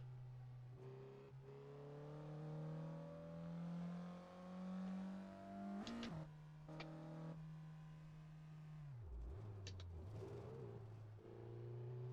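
A steady Renault Clio Phase 1 engine drone in Assetto Corsa with rising revs and a brief gear-shift dip, continuous and fairly loud, with an unrealistic-sounding exhaust note.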